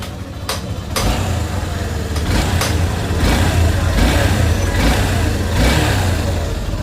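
A freshly repaired motorcycle engine runs nearby with a steady low throb, rising in a few revs over a couple of sharp clicks, and no voices.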